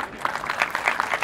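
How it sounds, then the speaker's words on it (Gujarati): An audience at a Diwali discourse claps in a short, muffled burst of applause, fairly distant and moderate in loudness. "પોતાની આવે ત્યારે કેવી તાળીઓ પાડવાની,"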